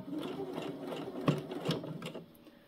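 A domestic sewing machine stitches fabric gathers at a 2.5 mm stitch length, running in a steady continuous whir with a few sharper mechanical clicks, close and alone without talk.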